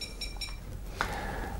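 A Compex wireless muscle stimulator emits short electronic beeps: a few faint tonal pips early, then a brighter beep near the middle followed by a sustained tone, heard over steady background hiss.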